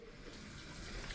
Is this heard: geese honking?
no